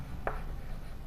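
A pen or chalk scratches briefly on a board during a Class 10 maths lesson, making a single quick, faint stroke over quiet room noise.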